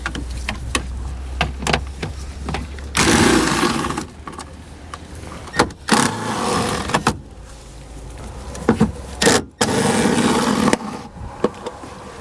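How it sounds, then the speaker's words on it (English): An 8mm socket on a power tool loosens the taillight nuts on a 2013 BMW 3 Series, with several loud whirring bursts of the driver between quieter clicks and handling noises, close up. "So we need to remove each of those 3 using a 8mm socket."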